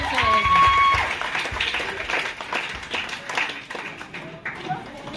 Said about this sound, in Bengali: ক্ল্যাপটা একটু চলতে থাকবে